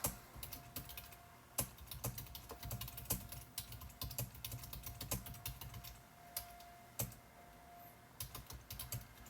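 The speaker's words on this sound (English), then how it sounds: "for some reason I'm typing this." Steady, close-up typing on a computer keyboard, a quick uneven patter of key clicks with occasional louder taps, no voices.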